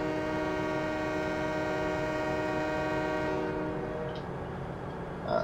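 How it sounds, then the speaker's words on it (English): A train horn from Farming Simulator 17 sounds as a long, steady multi-tone blast that fades out after about three and a half seconds, followed by a short click near the end. "I love playing with the horn sometimes."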